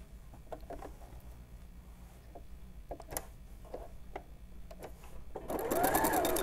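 Soft ticks and handling noises precede a short, close burst of a sewing machine running a straight seam on a knit tuque with double pompoms.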